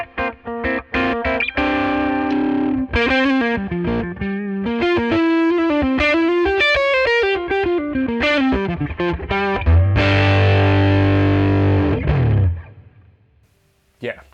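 Electric guitar runs through a Tweed-style overdrive pedal, playing loud, close distorted chords and single-note runs that ring out, with a heavier low chord near the end before fading to quiet.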